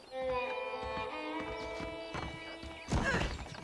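Horse in the Red Dead video game, hooves clip-clopping steadily with a short whinny, set against a sustained musical backing, with no talk.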